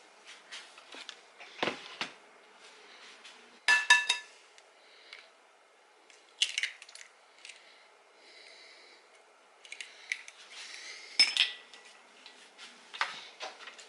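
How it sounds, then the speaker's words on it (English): Cookie dough ingredients and an egg being mixed in a bowl for Caramilk cookies, with intermittent clinks and scrapes of utensil against bowl separated by quiet pauses, close and fairly soft. "Now you mix it all up together again."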